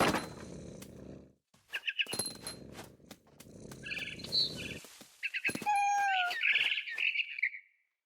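A frightened barn swallow in the video game What Remains of Edith Finch chirps in sharp, agitated bursts that grow busier toward the end, alongside soft thuds and rustling.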